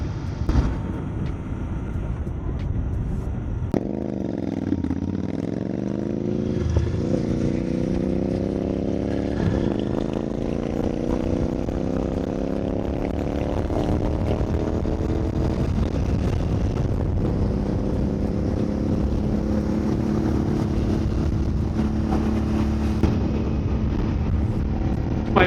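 A Royal Enfield Bear 650 motorcycle accelerates hard while being ridden, its engine note climbing steadily through the gears. Loud, continuous wind rush buffets the microphone throughout, with no talk.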